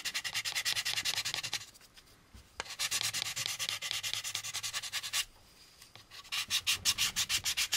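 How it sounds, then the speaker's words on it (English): Rhythmic back-and-forth cross-sanding strokes on a plastic model kit part, fast and gritty, in three bursts separated by short pauses, close up with no talking. "So there's our one direction of the cross sanding"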